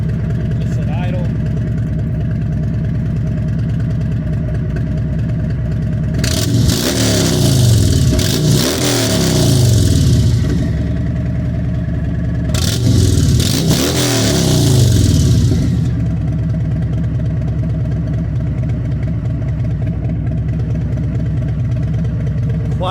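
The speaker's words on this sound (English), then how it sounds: "Noticeable difference. Just at idle." A car idles through a Power House 4 in exhaust with a steady low rumble, and two brief bursts of revving rise over it.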